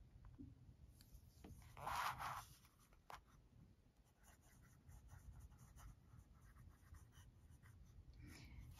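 An Esterbrook fountain pen nib scratches across paper in quiet, faint strokes, with a few brief, slightly louder scrapes in a hushed room and no voices.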